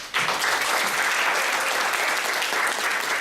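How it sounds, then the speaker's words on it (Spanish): A burst of steady audience applause for a speaker at a conference, dense and even from start to finish without any talk. "Un aplauso,"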